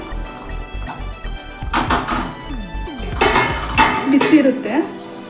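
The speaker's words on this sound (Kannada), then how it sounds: "ಇವಾಗ ಇದನ್ನು ಒಂದು ಪಾತ್ರೆಗೆ ಬಸ್ಕೋಬೇಕು" Metal utensils clatter and scrape against a pot as cooked greens are scooped and transferred, with clinks and knocks growing busier toward the end.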